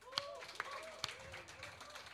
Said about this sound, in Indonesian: Boleh minta tepuk tangannya sekali lagi?